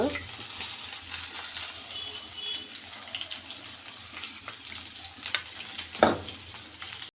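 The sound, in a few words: ginger and asafoetida frying in a pan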